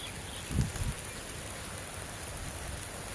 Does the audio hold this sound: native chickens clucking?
no